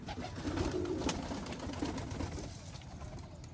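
Pigeons coo at a pigeon farm, a low soft murmur of several birds repeating close by over steady background noise, with no talking.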